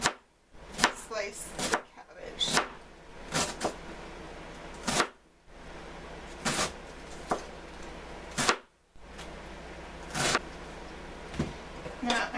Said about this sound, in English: I'm going to slice it down like that